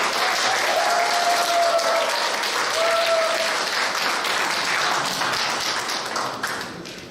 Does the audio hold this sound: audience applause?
yes